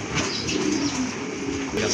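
Pigeons at a Bangladeshi pigeon market coo in low, steady rounds, with a soft, continuous murmur of several birds close by filling the whole stretch.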